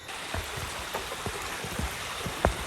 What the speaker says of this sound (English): Boy, I love the sound of flowing water.